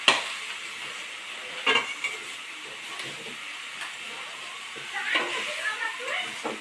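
Grated coconut and sugar stir slowly over low heat for coconut naru. A soft hiss sits under occasional scraping strokes of a spatula against the pan bottom, with no clear talk.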